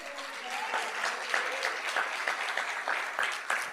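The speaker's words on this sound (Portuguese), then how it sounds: "Aplauda ao Senhor." Congregation applauding during a church service, steady dense clapping from many hands at a moderate level throughout.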